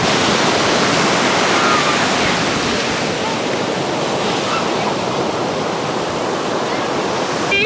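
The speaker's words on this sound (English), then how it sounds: "We're at the beach, guys." Ocean surf at a Mexican beach washes in as a steady, loud broadband roar, continuous and close with no pauses or voices.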